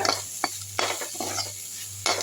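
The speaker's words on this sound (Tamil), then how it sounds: "லைட்டாக வதக்கி விட்டாச்சு ரொம்ப நேரம் வதக்கணும்னு அவசியம் இல்லை" Drumstick flowers sauté in a pan for an egg podimas, giving a steady soft sizzle with a few light stirring scrapes and spoon taps close by, no voices.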